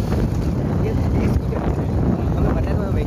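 Motorbike ride on a road, with steady engine drone and heavy wind rush filling the whole stretch while a rider talks over it.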